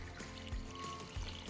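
Filtered room-temperature water, about 876 grams, poured onto sourdough starter in a bowl, a steady close splashing stream with two brief louder gushes.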